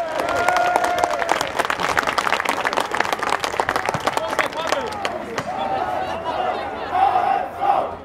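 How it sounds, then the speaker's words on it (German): Football fans in a stadium applaud and cheer the HSV coach, a loud, dense crowd roar with scattered clapping and shouting that fills the whole stretch, swelling again near the end. "Auch der zuletzt mehrmals in die Kritik geratene Trainer Bert van Marwijk bekam seinen Applaus von den Fans."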